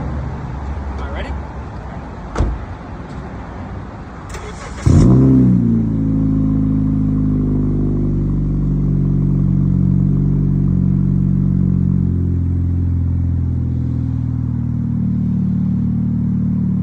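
A 2012 Honda Civic revs its exhaust, running with just the muffler and the silencer removed, giving sharp pops and bangs early on before settling into a loud, steady drone. A voice can be heard during the first few seconds.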